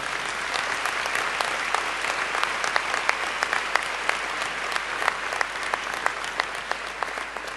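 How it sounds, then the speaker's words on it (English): Sustained applause from a large audience inside a cathedral at a choir festival, dense and steady with sharp individual claps standing out, filling the resonant space for the whole stretch. "Could we please have a round of applause for her?"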